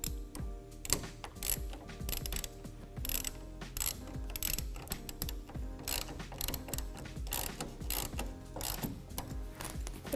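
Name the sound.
1/2 inch ratchet tightening tonneau cover clamp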